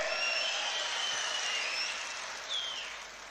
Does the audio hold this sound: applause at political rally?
yes